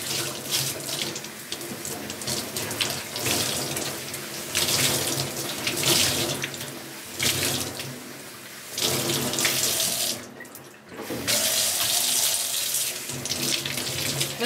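Tap water runs steadily into a sink while soap is rinsed out of wet felt, a close, loud gushing splash that breaks off briefly several times as the flow is interrupted, with no voices.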